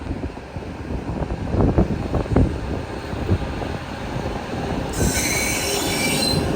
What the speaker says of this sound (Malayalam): 4:27 പ്ലാറ്റ്ഫോം നമ്പർ 4ലേക്ക് ഇതാ വിവേക് എക്സ്പ്രസ് കടന്നു വരികയാണ്.